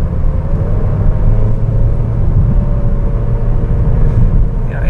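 A 2008 Mazda MX-5 Miata's engine drones steadily at low speed after a downshift from fifth gear, a constant close, low rumble with a faint whine running through it.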